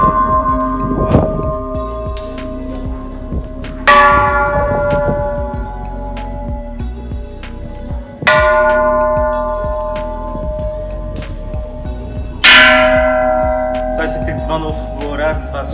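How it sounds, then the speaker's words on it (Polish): Large temple bells at Wat Plai Laem on Ko Samui are struck one after another, each loud ringing strike decaying into a long shimmering tone before the next, three main strikes with softer taps between, heard close up. "trzeba akurat tutaj w tym przypadku przejść i uderzyć w te wszystkie dzwony"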